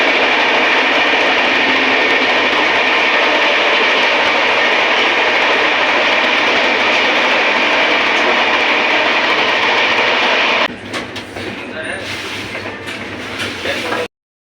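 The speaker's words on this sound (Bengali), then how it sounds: "রাজধানী এক্সপ্রেস এখন স্পিড অলমোস্ট প্রায় 110 থেকে 120 কিলোমিটার আসানসোল ঢুকছে" The 12301 Howrah-New Delhi Rajdhani Express runs at about 110-120 km/h into Asansol, a loud, steady rail rumble and rush close by that shifts to a rattling, uneven tone near the end.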